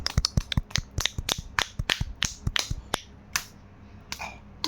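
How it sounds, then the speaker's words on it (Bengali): A steady run of sharp hand claps, close and crisp, briefly pausing and then resuming more sparsely, as an adult and small child applaud at home after the child recites the alphabet. "হাততালি।"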